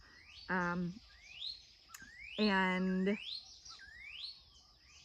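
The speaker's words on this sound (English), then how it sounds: "Bird's very loud." A loud bird calls nearby with rising, whistled chirps repeating through the stretch, while a voice sounds in short bursts between them, indoors during a talk.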